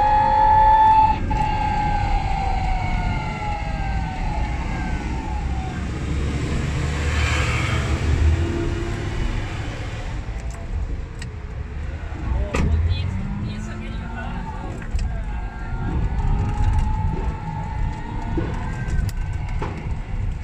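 A JI005 two-seat electric mini car drives on a road in high speed mode, producing a continuous rolling hum with tire and wind noise and a faint motor whine. It is close and steady, with passing traffic nearby.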